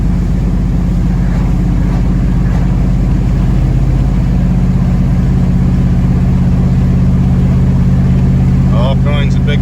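A GMC truck with a cammed 8.1 Vortec V8 hauls 15,000 lbs uphill, its engine a steady, loud, low drone that continues under the noise inside the cab.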